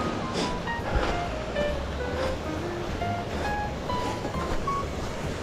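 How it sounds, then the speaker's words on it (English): Rushing water on Mt Washington during a major winter rain storm gives a steady, broad wash of sound, mixed with wind noise, constant and moderately loud without a break. "We can hear the water."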